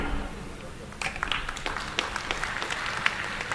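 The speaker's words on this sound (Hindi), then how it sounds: "तालियों की जोरदार गूंजन के साथ हम स्वागत करते हैं हमारे मुख्य अतिथि का।" Crowd applause at a large BJP political rally welcoming India's Home Minister Amit Shah in Assam, starting after a quiet second and continuing as broad, steady clapping at moderate distance.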